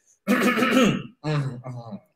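A voice imitates throat clearing with a drawn-out rasping hem followed by two shorter gruff bursts, close and loud.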